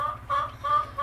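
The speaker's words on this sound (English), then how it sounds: "She's making motherly noises. Hen motherly noises, of course." A brand new mother hen gives soft, repeated low clucks to her newly hatched chicks, with a few higher peeping tones between them, close and alone.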